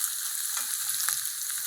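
Onions being sautéed in a pan for a chicken sukka, giving a continuous steady sizzle with faint stirring taps and no voices.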